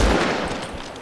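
A sniper rifle shot in the shooter Medal of Honor: Warfighter, a single loud, close boom that fades out over about a second with no voices.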